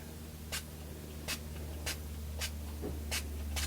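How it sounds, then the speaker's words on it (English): Six short, evenly spaced spray bursts of blue ink hiss from a small bottle onto a paper doily over a low steady hum, each quick puff sharp and close. "spray over this doily"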